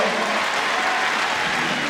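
Crowd at an international show jumping event in London applauding steadily and loudly after a horse clears a jump, a dense continuous clatter of many hands with no break.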